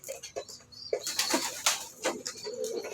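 Domestic pigeons in a home loft give throaty bursts of cooing mixed with brief wing flaps, close and fairly loud, with people talking among them.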